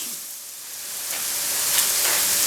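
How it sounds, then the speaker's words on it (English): Onions sautéing in a pan, a steady bright sizzle and hiss that swells slightly louder over the moment, with faint stirring scrapes beneath it. "we will just keep stirring everything in until the onions are nicely cooked"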